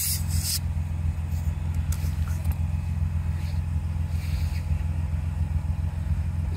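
A 1998 BMW M Roadster drives along with a steady, loud low engine drone and road rumble throughout, with a brief sharper noise at the very start and no talking.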